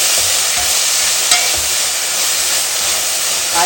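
Chopped fenugreek leaves frying in a pan, a loud, dense hiss of sizzling that runs steadily throughout with a single faint clink.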